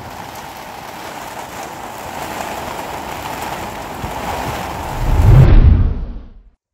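Rain from a thunderstorm at a marina, a continuous hiss of steady rainfall with a deep rumbling swell near the end before the sound cuts off.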